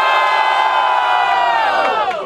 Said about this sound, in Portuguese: Quem gostou das rimas do Milhouse faz muito barulho